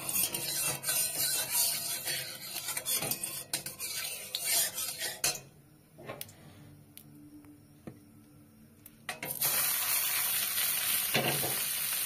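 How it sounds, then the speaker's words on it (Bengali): Cashews and raisins stirred in ghee in a kadai, with a spoon scraping and clinking against the pan over a light sizzle, broken by a quieter stretch midway before the frying noise returns. "এখানে কাজু কিশমিশ আছে। আমি সামান্য ঘি দিয়ে একটু নেড়ে নেব।"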